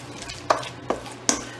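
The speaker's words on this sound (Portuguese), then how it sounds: "Aí você põe, vai mexendo." Wooden spoon stirring eggs into thick choux pastry dough in a bowl, three distinct scraping knocks spaced about half a second apart over a soft background hum, close and moderately loud.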